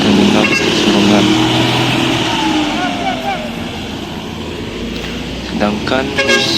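A bus with a Cipta Karya Medan body pulls out of the Bukit Surungan bus terminal, its engine rumbling loudly with short horn toots, while voices talk over the traffic noise.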